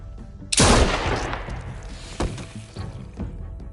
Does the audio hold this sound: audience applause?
no